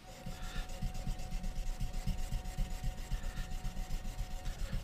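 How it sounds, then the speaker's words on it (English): Hand sanding a steel knife blade, blending one whole side of it: a steady rhythmic rasping rub that repeats in quick even strokes, close up, with no voices. "when I hand sand, I'm actually blending this entire side of the blade all together"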